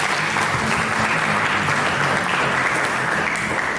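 Church congregation applause given to God during a sermon: a thick, unbroken roar of clapping from many people, loud and even throughout, with a low murmur of crowd noise beneath.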